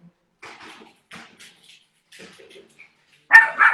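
A puppy gives a few soft yips and whimpers at close range, then two louder, sharper barks at the end, with quiet pauses between the sounds.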